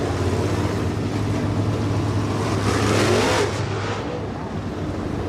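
Modified race cars roll out onto the track at County Line Raceway, their engines making a steady, rumbling drone. A slight swell in the middle suggests one car passing closer.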